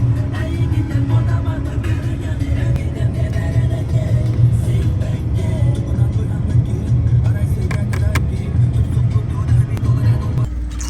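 Loaded truck (tentukha) engine rumbling and pulling away in -55°C frost, a steady low drone with a faint rev, close and continuous before cutting off at the end.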